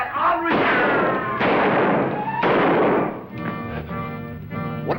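Several loud broadband bangs, roughly one a second, ring out in an old western TV episode, then give way to someone talking over a quieter stretch.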